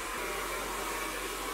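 A hair dryer runs continuously at high power during a blow-dry styling of a woman's hair at home, a steady loud rushing whoosh close by with no speech over it.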